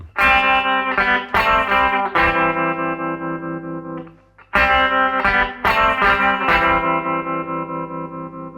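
A single effected electric guitar plays both parts of a song as a repeating riff combining sustained chords and picked notes, with a brief dip midway before the phrase restarts.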